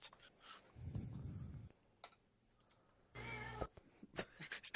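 A cat gives a low, breathy meow, then a louder, harmonic yowl after a short pause, heard close and faint amid scattered ticking clicks.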